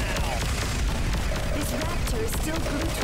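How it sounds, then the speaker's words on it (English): Rapid laser fire in a space battle from the video game Darkstar One, a dense stream of overlapping zaps and bursts with whooshing effects, loud and continuous and mixed with other game noise. "My goodness, that's a lot of laser fire."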